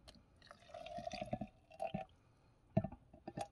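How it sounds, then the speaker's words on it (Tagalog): Water poured into a portable mini fruit juicer blender, quiet irregular splashes and drips in short bursts, faint and close. "So lagyan natin ng tubig."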